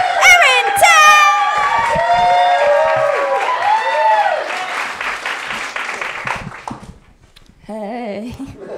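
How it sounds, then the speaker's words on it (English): A crowd at a new-act comedy competition final cheers, whoops and applauds loudly as a comedian takes the stage, the noise dense at first, then thinning and dropping away before a voice starts talking at the end. "let's get our pools going. Let's cheer it up. Welcome to stage"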